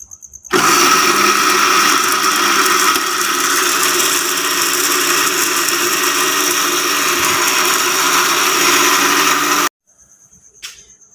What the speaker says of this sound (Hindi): अब हम इसको ब्लेंड करेंगे।